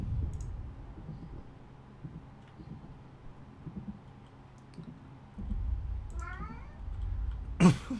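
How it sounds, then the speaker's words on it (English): A cat gives a single short, faint meow over a low background rumble with scattered clicks, followed by a sharp, louder noise. "My cat."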